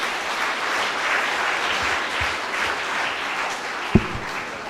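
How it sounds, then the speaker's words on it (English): An audience at a campus-to-corporate talk on innovation and entrepreneurship applauds steadily for several seconds, a dense, even clatter of clapping heard from within the hall. "Give yourself a big round of applause."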